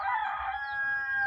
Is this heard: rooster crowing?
yes